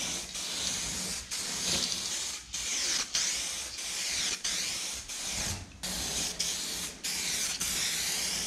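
An aerosol can sprays paint onto a car for a wetter second coat, in a string of close hissing passes broken by short pauses, with no voices.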